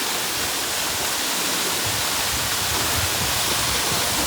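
Water pours steadily down a hidden waterfall at Lavasa in the monsoon rain, a dense, continuous rushing roar close by that holds even throughout.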